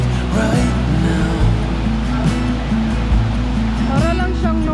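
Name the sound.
flowing water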